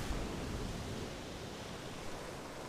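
Wind and sea waves sweep past a seaside cliff after a typhoon, making a steady, fairly faint broadband roar with no voices.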